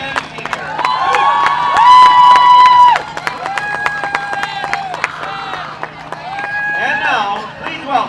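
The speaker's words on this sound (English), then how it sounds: "let's have a round of applause for our 2024 Redcoats Marching Band Seniors" A crowd in the stands at a high school football game on senior night cheers, claps and shouts for the marching band seniors, with scattered whoops and sustained yells rising over the noise.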